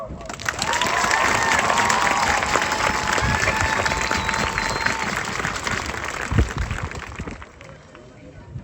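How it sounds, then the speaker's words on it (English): A commencement crowd applauding the graduating class, a broad roar of clapping mixed with cheers and high whistles that carries for several seconds before tapering off, with voices mingling in the noise. "Let us recognize all of our graduates with a round of applause"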